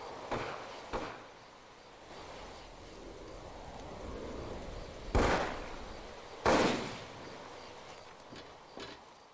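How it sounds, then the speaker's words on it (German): Gunshots in the video game Overclocked: A History of Violence, set near a beach watchtower. Several sharp, distant cracks are spaced irregularly over a low wash of wind and surf, with two louder shots standing out. "fallen Schüsse. Schüsse? Wer schießt auf wen?"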